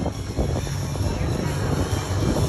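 A powerful aerobatic propeller airplane of almost 400 horsepower hangs from its prop in a torque roll at an air show, its engine droning loud and steady with a rough, throbbing rumble throughout.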